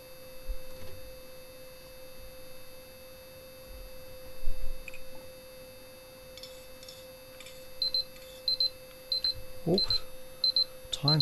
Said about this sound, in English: That was my alarm going off to remind me when to stop playing.